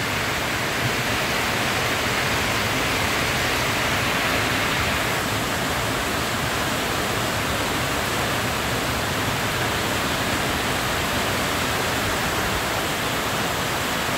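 Heavy rain pours steadily with strong wind at seven in the evening, a dense, unbroken roar that stays loud and even throughout, with no voices.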